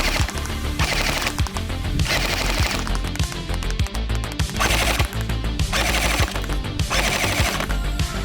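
An Army Armament AUG A1 airsoft rifle fires outdoors in repeated short bursts of rapid clattering shots, about five or six bursts with brief gaps between them, loud and close.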